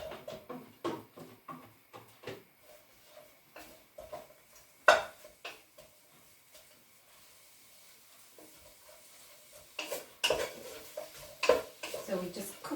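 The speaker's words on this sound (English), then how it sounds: "So we just cook our onions very gently for a couple of minutes." Onions cooking gently in oil in a tagine pot for a chicken and chickpea tagine, with a spoon clinking and scraping against the pot in irregular bursts over a faint sizzle.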